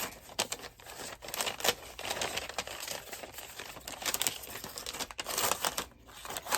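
Scissors cut apart a cute store-bought bag for a craft project, giving steady crinkling and rustling with sharp snips and tearing sounds, close and fairly busy throughout, with no talking.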